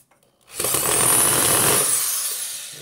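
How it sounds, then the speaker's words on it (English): Power drill driving a rotisserie-based tumbler turner, whirring loudly and steadily for about two seconds after a short quiet start, then slowly winding down. "so I'm going to go ahead and use this drill."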